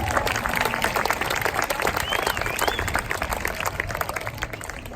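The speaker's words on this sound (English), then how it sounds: "that deserves a round of applause" A school audience at a middle school class promotion ceremony claps in dense, sustained applause, loud and continuous for several seconds with crowd noise mixed in.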